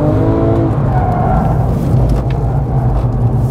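A Porsche Cayman sliding through a corner with tires squealing hard over a loud, steady engine roar, close and continuous.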